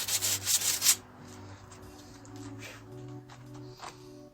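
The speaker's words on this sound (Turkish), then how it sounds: "zımparaladığımız yeri şöyle fırçayla temizliyoruz" A brief burst of brisk brushing at the start, then soft scratchy rubbing strokes as a brush clears dust from sanded bamboo furniture, continuing quietly over a low steady hum.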